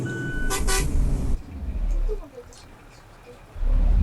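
Car horn honks in Bus Simulator Indonesia multiplayer, with a loud burst of toots early on over steady engine rumble, then a quieter stretch before the engine noise swells again.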